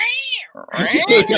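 A person imitates a cat's meow like an alley cat, a wavering, drawn-out vocal cry, followed closely by louder overlapping talk and laughter.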